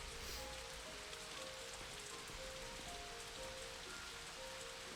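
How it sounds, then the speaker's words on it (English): Steady rain falling in autumn, a dense even patter of raindrops striking surfaces all around, continuous and moderately close with no voices. "I want to hear the raindrops falling around there."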